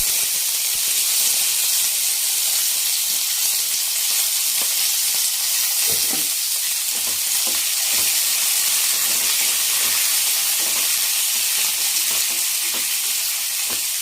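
Onions fry in a pan for mushroom biryani, making a steady, loud hiss of sizzling oil with occasional soft stirring clicks and no speech.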